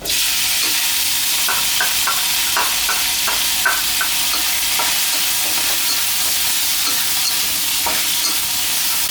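Naem, Thai fermented pork, being stir-fried in a pan, with a steady close sizzle and repeated scraping strokes of the spatula in an uneven rhythm.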